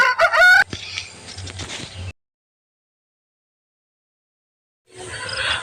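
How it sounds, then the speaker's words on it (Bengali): A native rooster crows loudly and close at the Kharika chicken market, followed by clucking and market noise, then a sudden silence before the bustle returns. "এই যে দেশি মোরগটা দেখতে পাচ্ছেন স্ক্রিনে"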